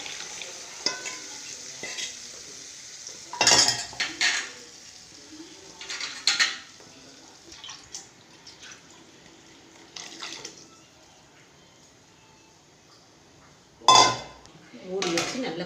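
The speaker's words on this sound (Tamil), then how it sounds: "இப்போ இந்த குழம்ப இதில் ஊற்றிக்கலாம்." Kuzhambu curry being poured into a pot in a home kitchen, with sporadic clinks and scrapes of metal utensils against the pot between quieter liquid sloshing.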